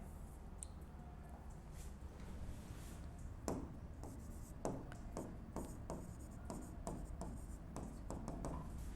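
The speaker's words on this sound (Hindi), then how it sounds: "तो पहले मैं लिख देता हूं" Marker or chalk writing on a board during an accounting lesson, a series of quick close taps and short scratchy strokes in an irregular rhythm, with no voice over them.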